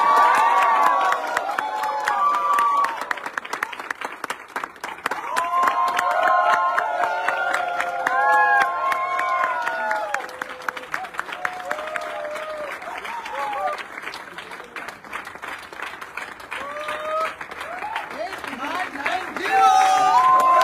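An audience claps and cheers at a stage event celebrating new car purchases, with sustained crowd applause throughout, loud and close, with shouts and voices mixed into the clapping.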